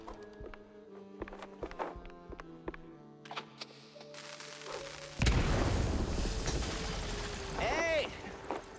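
Firecrackers explode in a wooden attic in Mouse P.I. For Hire as a string of sharp cracks and thumps, followed by a louder, denser burst of popping and a rushing roar, with a voice partly over it.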